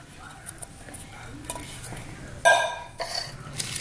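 Dry pinto beans are poured into a crock pot of chili, a short rattling rush around the middle and a smaller spill just after, over soft kitchen clatter.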